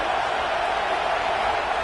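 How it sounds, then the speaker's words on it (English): A big college football crowd roars steadily in Happy Valley on third down, a dense, continuous wash of cheering and noise from a packed stadium in a football video game. "Here comes the noise from this big crowd in Happy Valley on third down."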